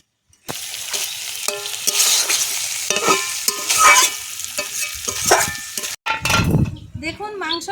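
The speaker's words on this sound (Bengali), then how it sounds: "মাংসটাকে চাপা দিয়ে অনেকক্ষণ ধরে কষতে হবে। চাপাটা খুলে বারে বারে নাড়তে হবে।" Chicken pieces are stirred and fried in a pan for a light curry, giving a loud close sizzle with scraping spoon strokes and brief clatters, and a voice is heard near the end.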